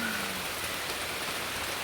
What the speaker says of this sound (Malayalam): മഴ തകർത്ത് പെയ്യുകയാണ്